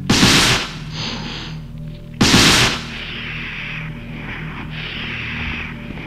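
Grenade launcher flame rounds fired in Resident Evil 2, two loud, close blasts a couple of seconds apart, each followed by a lingering crackling roar of fire.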